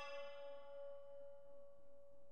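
A single bell tone in the video game Strawberry Cubes rings out clear and sustained, then slowly fades over about two seconds.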